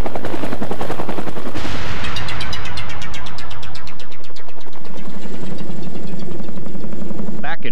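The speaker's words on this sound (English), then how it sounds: "Back in Pittsburgh, another helicopter touches down." A helicopter touching down in Pittsburgh during the 1996 flood, with loud, rapid rotor thumping that is heavy and distorted at first, then settles into a steadier beat.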